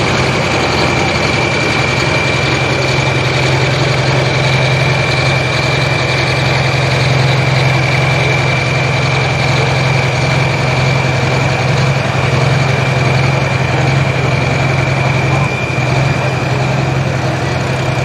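A super pro farm tractor engine idles at a tractor pull at Millers Tavern, a loud, steady, unbroken drone with a deep rumble and a constant whine held for the whole stretch.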